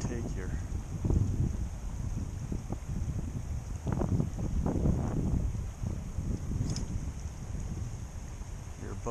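Gusty wind buffeting the microphone beside a Sierra stream while fly fishing, with low rumbling bursts that rise and fall and steady water hiss behind them.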